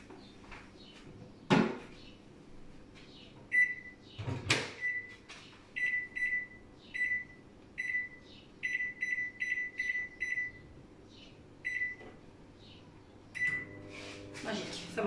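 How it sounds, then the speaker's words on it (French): A microwave oven being switched on and started at 600 watts in a home kitchen, with a series of short electronic button beeps, a clunk of the door, and speech over the top. "je couvre et je pars 7 minutes au micro-ondes à 600 watts"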